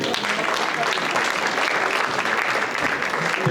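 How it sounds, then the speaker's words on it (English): A crowd at a veterans breakfast applauds volunteer drivers, a dense, steady wash of clapping that holds evenly for several seconds at moderate loudness from a roomful of people. "A big round of applause for them."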